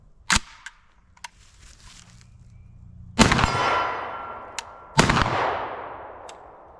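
A Fostech Origin 12 shotgun fires three loud, separate shots, one early and two later about two seconds apart, each a sharp blast with a long booming tail, with faint clicks and mechanical handling sounds between them.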